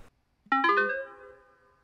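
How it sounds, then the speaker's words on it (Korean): A mobile phone chimes a short, bright rising tone once to signal charging is complete, ringing clearly in a quiet room and fading away over about a second. "휴대전화 충전 완료를 알리는 소리가 들려왔습니다"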